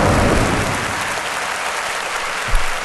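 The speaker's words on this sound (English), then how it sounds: "You can clap for that." A studio audience at a podcast taping breaks into loud, sustained applause, a dense wash of clapping that stays even throughout, with no talking over it.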